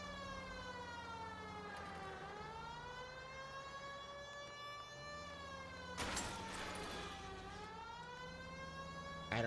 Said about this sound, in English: Put back on the siren, even though the siren's annoying as hell.